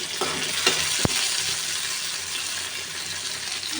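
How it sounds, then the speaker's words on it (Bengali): Spice paste with onion, cumin and chili powders frying in a pan for rohu fish kalia, a dense steady sizzle broken early by a few scraping stirs and one sharp clink. "এবার মশলাটাকে আমি একটু কষিয়ে নেব।"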